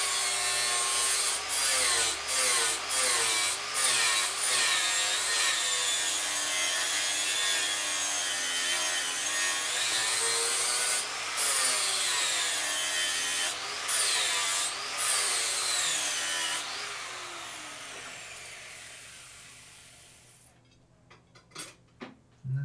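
Steel billhook blade drawn over a fine sharpening stone in a finishing pass, a steady run of repeated scraping, rasping strokes, close and fairly loud, each stroke slightly accented, fading to a few scattered taps at the end.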